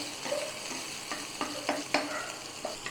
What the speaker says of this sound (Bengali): রসুন একটু ভালো করে ভেজে নেবো